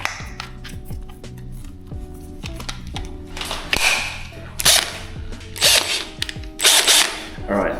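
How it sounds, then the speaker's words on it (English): A power drill from IKEA fitted with a wet sanding disc works on a car headlight, whirring in a steady, moderately close drone punctuated by clicky mechanical rattles and a few louder grinding bursts toward the end. "So what you do is that you attach this onto your Ikea drill."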